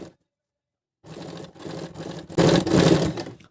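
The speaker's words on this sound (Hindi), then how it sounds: "ये हम डबल स्टिच दे रहे हैं" A sewing machine runs a double stitch while lengthening a garment sleeve, whirring in several short bursts that start after a pause and grow louder toward the end, with no voices.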